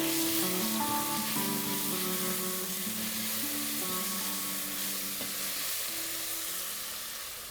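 Crushed ginger, garlic and whole spices such as star anise frying in a pot for biryani, a steady close sizzle with stirring, while a soft tonal melody plays underneath and fades slightly at the end.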